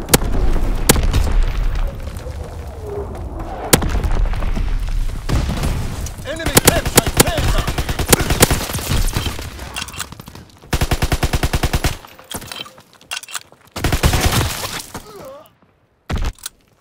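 Call of Duty WW2 battle soundscape with a bombing run and artillery fire: rapid machine-gun bursts, sharp gunshots and booming explosions, dense and loud throughout, breaking into choppy bursts near the end.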